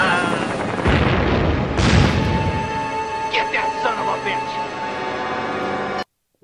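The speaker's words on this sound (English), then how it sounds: "Master Ogami has a fucking rocket launcher?" A rocket launcher fires in a film: a deep booming blast and roar fills the opening seconds, then fades into a ringing musical tail with higher tonal sweeps, loud and close.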